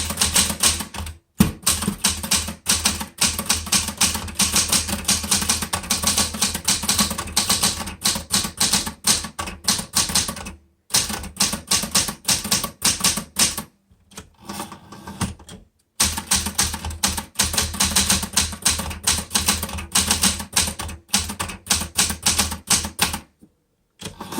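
Smith Corona Galaxie Twelve manual typewriter in original blue, typed in rapid bursts of sharp key strikes with short pauses between runs, loud and close with no talking.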